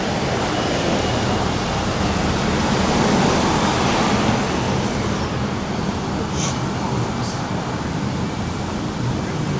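River water in Helen, Georgia rushes steadily as a broad, constant wash of noise, loud and close, with no talk over it.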